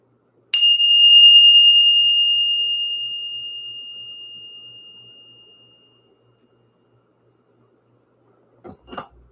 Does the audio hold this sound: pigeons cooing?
no